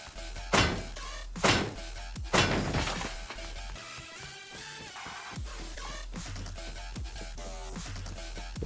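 Loot barrels smashed open in the Rust survival game, three sharp wooden-metal breaking hits in quick succession near the start, followed by quieter clatter and debris.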